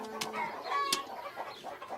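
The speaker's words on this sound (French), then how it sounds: "ces poules affamées" Hungry cartoon chickens cluck in quick, uneven bursts, with a couple of sharp louder clicks, at moderate volume and close, with no talk over them.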